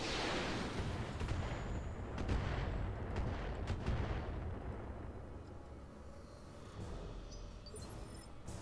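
Missiles firing in the Roguepoint video game, a series of deep booming launches and blasts that roll out and decay, loud at first and fading toward the end.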